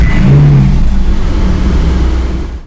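Ferrari California T starting up in a rental car setting, a loud steady engine rumble with a brief higher surge near the start, then a sustained idle that cuts off at the end.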